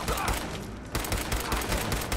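Rapid bursts of player gunfire in Fallout 4, dense volleys of shots cracking close and loud, with a brief lull midway before the firing resumes just as heavily.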